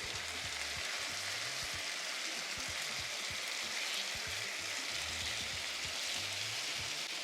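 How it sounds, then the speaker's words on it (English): Chicken tikka sears in a hot pan over high heat, giving a steady, dense sizzle with crackles and pops throughout and no talking. "So we always sear on high, right?"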